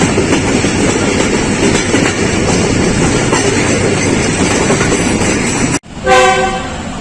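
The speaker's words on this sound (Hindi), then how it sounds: "खरामा खरामा चलते हुए बाबा फरीद एक्सप्रेस कोट लखपत पहुँच गई है" The Baba Farid Express on Pakistan Railways rolls along loudly with a constant rumble and clatter, then a brief gap is followed by a sharp horn blast near the end.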